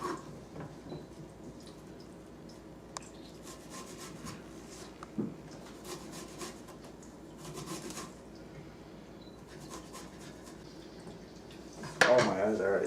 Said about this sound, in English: now I'm just cutting up these shallots to go in with the risotto